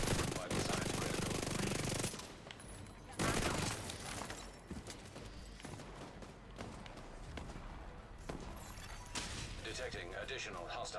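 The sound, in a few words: shotgun gunfire in The Division 2 video game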